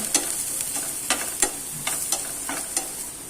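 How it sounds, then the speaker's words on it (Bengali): Garlic frying in hot oil for a tomato and mashed potato bhorta, heard as a steady sizzle broken by about eight sharp scraping stirs, close and fairly loud, with no talking. "রসুনটা আমি একটু ভালো করে ভেজে নেব"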